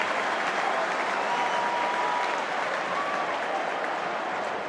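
A stadium crowd of more than 40,000 applauds at a 2005 AFL match between West Coast and Port Adelaide, a broad, dense roar of clapping holding steady throughout, with no clear voice on top.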